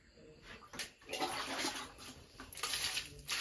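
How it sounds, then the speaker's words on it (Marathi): Water splashes and pours as shevala, a wild monsoon vegetable, is washed, with uneven close sloshing bursts at a low level. "तर ही आता सगळ्यात आधी धुवून घेऊची आहेत."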